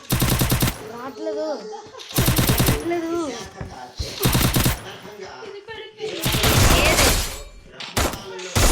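M82B sniper rifle firing in a video game, a few sharp heavy shots cutting through game voice lines and effects, loud and close.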